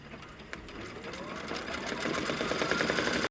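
An embroidery machine stitches a placement line on quilt fabric, making a rapid, even mechanical chatter that builds steadily in loudness, close and continuous, then cuts off with a sudden thump at the end.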